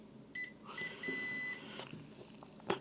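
A multimeter in continuity mode beeps while probing an inductor on a PS2 console board during repair. Three separate electronic tones sound close: two short beeps, then one longer steady one, followed by light clicks of the probes.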